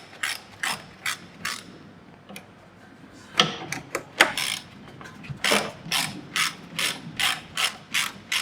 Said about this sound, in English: So we should remove the front 2 bolts holding that in place.